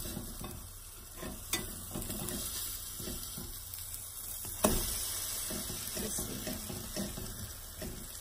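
An omelet sizzles steadily in a frying pan just after being flipped, a soft continuous fry with a couple of sharp knocks from the pan or utensil.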